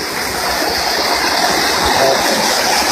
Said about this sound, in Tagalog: Ito po ang bakong fall.